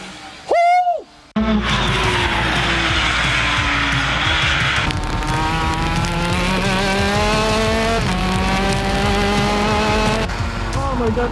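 The world's fastest go-kart on a timed lap, its engine howling loud and close in long rising pitch runs between quick shifts, after a brief high squeal-like burst at the start.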